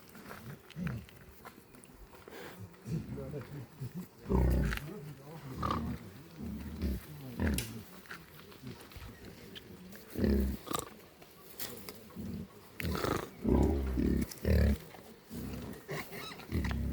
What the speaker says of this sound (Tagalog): nakita ko na yung mga wild pig